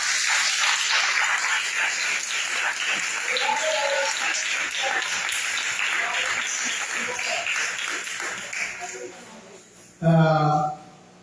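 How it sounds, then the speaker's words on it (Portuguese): A church congregation claps for God during a sermon, a dense, steady wash of applause filling most of the stretch before tapering off, with a short burst of voice near the end. "Dá uma salva de palmas para Deus."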